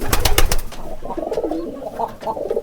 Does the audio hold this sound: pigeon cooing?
yes